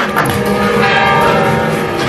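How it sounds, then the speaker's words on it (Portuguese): Church bell rung by townspeople in a town in South Sudan, clanging steadily and loudly with a dense, ringing wash of overlapping tones throughout. "os moradores foram juntos badalar o sino."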